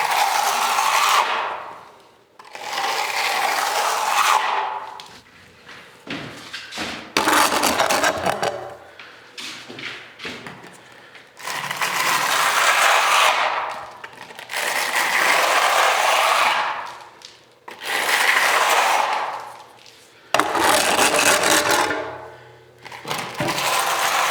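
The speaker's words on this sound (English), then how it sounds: "Sounds kind of crusty, but that's all the aggregate, which is basically sand." A trowel spreads crusty sand-aggregate plaster on a wall, making loud, close, gritty scraping strokes in repeated bursts of a second or two, separated by brief pauses.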